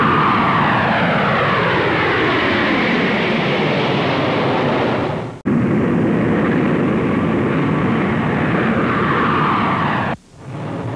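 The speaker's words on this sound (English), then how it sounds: "Noise levels of jet flights at Idlewild are measured by Port Authority teams." Loud, continuous roar of jet aircraft at Idlewild airport in 1962, a sustained broadband engine rush with a sharp cut near the middle, then resuming and briefly dipping again near the end.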